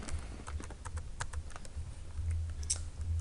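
Rapid, uneven keystrokes clatter on a computer keyboard while HTML banner styling code is entered, close and fairly quiet, with short pauses between bursts and no voices.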